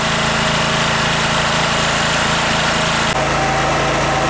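An OKAY 2.5 kW inverter generator runs steadily at idle, a loud constant engine drone with a buzzing mechanical hum that holds without a break, with a slight shift in tone near the end.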